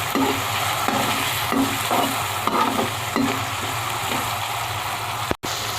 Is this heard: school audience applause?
no